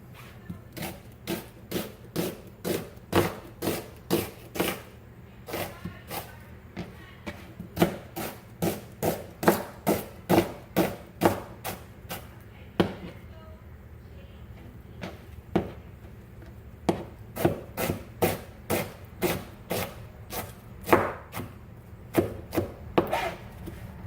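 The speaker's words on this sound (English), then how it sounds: "This seems to be the best way to cut onions" A knife chops onions on a wooden cutting board in a kitchen, with a long run of steady, close, crisp thuds at a brisk even pace and occasional brief pauses.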